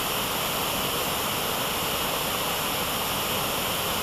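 Cold waterfall in Crimea in spring, a steady, dense roar of falling water that stays loud and unbroken throughout, with no voices.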